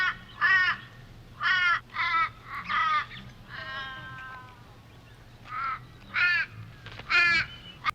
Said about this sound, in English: These stupid crows.